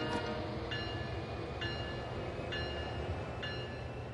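A freight train in the Train Sim World 3 simulator accelerates at throttle notch 2, a steady loud rumbling drone with periodic faint clicking pulses about once a second, no talking.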